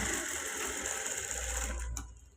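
Steady, close whir of a sewing machine running continuously while stitching a blouse, then cutting off near the end with a brief clack and fade to quiet.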